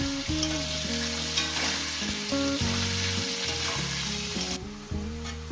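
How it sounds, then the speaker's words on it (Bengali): Steady, loud sizzling and crackling of potatoes frying in hot oil, continuous throughout with no voices. "এবার লবণটা দিয়ে আমি মাছগুলো এই আলুগুলো ভেজে নেব"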